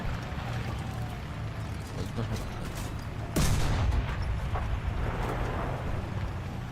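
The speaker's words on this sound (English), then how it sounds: "I'm firing heat rounds" A tank's main gun fires a single HEAT round in War Thunder, one loud, near boom with a rumbling tail in the middle of steady engine and battlefield noise.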